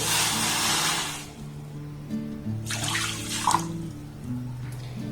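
Water poured from a bowl onto sugar in a pan to start a cardamom syrup, a steady splashing gush up front that stops, followed by quieter kitchen sounds and a small clink.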